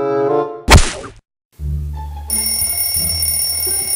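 A morning alarm clock rings in a bright electronic tone, then a loud thwack as it is hit, a brief silence, and a second bell-like ringing that continues to the end.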